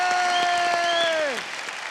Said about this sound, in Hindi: तालियां नहीं रुकनी चाहिए।